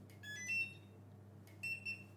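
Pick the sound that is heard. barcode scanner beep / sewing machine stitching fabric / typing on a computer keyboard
barcode scanner beep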